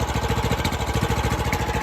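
A Predator 301 engine swapped into a Yamaha Warrior quad idles with a close, steady low chugging rhythm and its exhaust blowing onto the frame.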